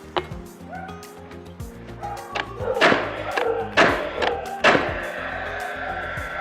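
Paslode straight brad nailer firing brads into a board: several sharp percussive cracks with bright broadband bursts, spaced irregularly around a second apart, close and loud over a low background hum.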